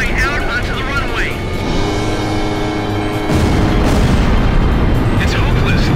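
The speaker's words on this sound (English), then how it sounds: "Incoming shells are starting to blanket the area." Artillery shells explode in Ace Combat 5: The Unsung War during the Desert Arrow mission, with heavy rolling booms and rumble under a roaring aircraft engine and voices talking.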